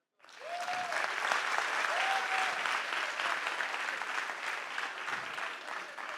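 Audience at a slam poetry concert at the Institut Français du Congo claps in steady, dense applause that starts abruptly and continues for several seconds, with a few faint whistles rising above the crowd.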